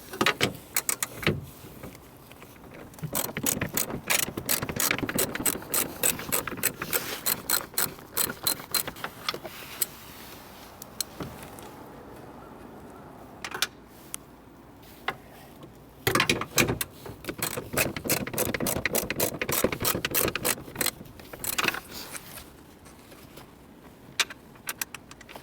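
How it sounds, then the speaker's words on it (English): Ratchet with a 10mm socket and extension working on the side mirror bolts of a Toyota Yaris, giving rapid bursts of close, metallic clicking separated by quieter pauses, with the tool handle's rattle audible between bursts. "they take a 10mm socket. And you will need an extension to reach through here."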